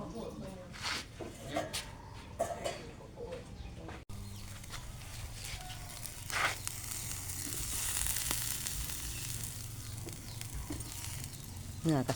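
Steady sizzling of beef on a grill, a broad crackling hiss that swells mid-clip, with someone talking over it at the start.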